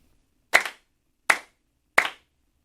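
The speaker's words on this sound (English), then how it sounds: "3 claps." Three sharp, evenly spaced hand claps ring out alone in a quiet room during a Shinto chant ritual, each a crisp slap with a short decay.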